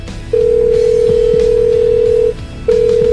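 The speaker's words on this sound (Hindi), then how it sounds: "फिर टिया को कॉल किया" A phone call ringing out on a telephone line: a steady tone holds for about two seconds, breaks off briefly, then starts again, clear and close with no voices over it.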